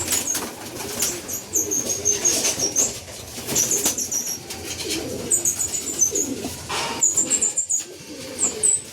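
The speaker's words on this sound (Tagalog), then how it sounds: "Mailap mga kalapatids." Racing pigeons at a derby loft in Gumaca, Quezon, cooing in soft repeated throaty bursts close by, with occasional wing flaps and faint high chirps from other birds in the background.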